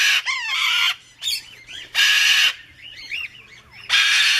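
A cockatoo at a parrot rescue screeches loudly and close by in repeated harsh, wavering bursts of about half a second each, separated by brief pauses, with no talking over it.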